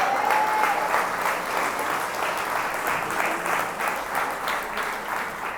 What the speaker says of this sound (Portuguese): aplauda o nome do Senhor Jesus mais uma vez